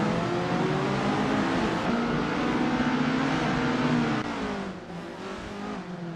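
Classic Formula Junior race cars howl around a tight circuit, their engines holding a loud, steady drone with shifting pitches as several cars run close together, easing slightly near the end.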